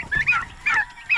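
Large, well-grown farm turkeys gobble three times in quick succession, loud and close, with short pauses between the bubbling calls.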